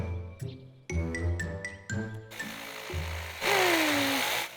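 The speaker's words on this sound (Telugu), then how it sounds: "ఈ రంపం శబ్దం బాగా వస్తుంది." A saw running in an animated bear cartoon, a loud buzzing, droning mechanical whine in bursts mixed with tonal cartoon effects, ending in a harsh broadband roar with a sweeping pitch.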